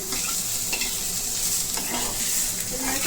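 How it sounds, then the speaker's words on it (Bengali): Chopped cabbage and other vegetables fry in a pan for momo filling, making a dense, continuous sizzle with steady stirring scrapes, close and fairly loud throughout. "এবার এটা ভালো করে ভেজে নেব।"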